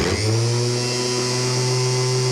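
A rebuilt riding lawn mower starter motor spins at steady speed, a loud, even electric whine with a smooth hum and no rattle, heard alone.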